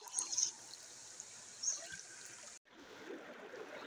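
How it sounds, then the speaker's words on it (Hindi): Water flows along the route to Damakhol waterfall as a steady, broad rushing hiss at moderate distance. A brief cut breaks the sound partway through, then the flow continues unchanged. "मैं आप लोग को ऐसा पानी की आवाज़ सुनाता हूँ"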